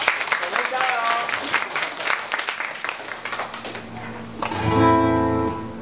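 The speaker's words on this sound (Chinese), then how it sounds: "大家可以给他一点掌声" Audience applause at a campus tour concert by a band, clapping swelling under a speaking voice and then rising into a louder burst with some musical tones near the end.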